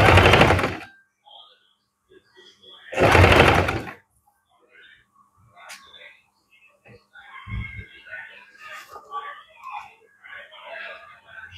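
A sewing machine stitches green fabric in two short, loud, whirring bursts about two seconds apart, followed by someone talking over faint handling noises.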